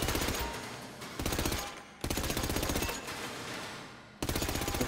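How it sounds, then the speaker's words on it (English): Rapid automatic gunfire at a GTA 5 shooting range rattles out in fast, evenly spaced bursts, each several seconds long and separated by brief pauses, loud and close. "Just keep on shooting."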